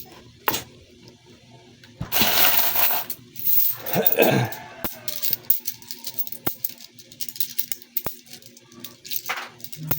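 Many coins handled and counted after a grocery payment in change, with jingling pours, clinks and rattles of metal pieces sliding and dropping, close and fairly loud, without talk.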